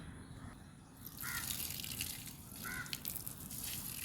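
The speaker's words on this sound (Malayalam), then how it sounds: "അപ്പൊ വെള്ളം കോരി കൊടുക്കാം." Water scooped and poured onto dried-out dragon fruit plants, a close splashing gush that swells after the first second and continues, with a couple of small drips and no talk.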